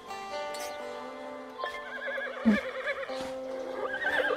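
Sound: horse neighing in video game Rival Stars Horse Racing

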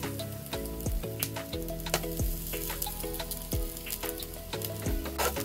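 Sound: garlic frying in olive oil in a pan

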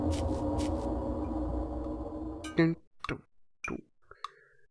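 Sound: ticking clock noise in the Newgrounds game FAINT

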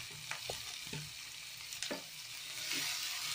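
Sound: onions sizzling while frying in pan for fish fried rice

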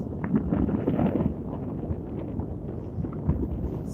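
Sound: strong wind

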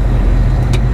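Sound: traffic at the Hazleton, Pennsylvania truck stop

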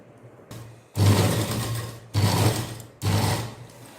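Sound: sewing machine stitching blouse piping

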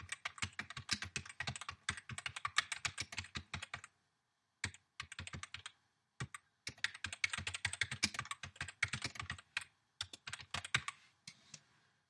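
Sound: typing on a computer keyboard

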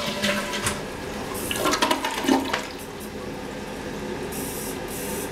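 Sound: Kohler Cimarron toilet flushing via touchless flush kit

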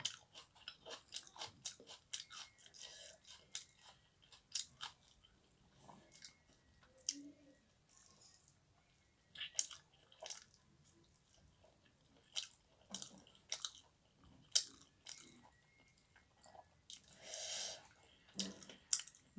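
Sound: chewing onion with roti

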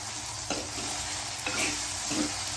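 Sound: bottle gourd cooking in oil in a pan

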